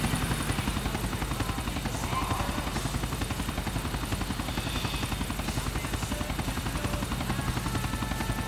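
A helicopter in the video game GTA 4 flies with a steady, rapid rotor chop, loud and continuous throughout with little change.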